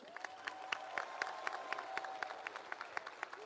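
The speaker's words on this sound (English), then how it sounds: "Let's give them all another round of applause." A high school graduation ceremony crowd applauds steadily, with many hands clapping in a dense patter and a faint sustained cheer running underneath.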